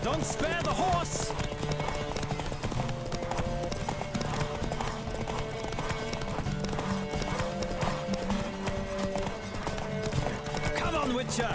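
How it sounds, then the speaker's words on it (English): Steady clip-clop of galloping horse hooves racing in The Witcher 3, loud and continuous at close range, layered with game music and occasional shouted voices. "Don't spare the horse!"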